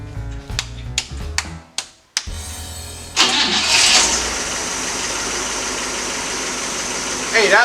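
A 1958 Cadillac engine cranks in short bursts, catches and settles into a steady idle, with a fast ticking from the lifters running through the running sound; people talk briefly before it starts.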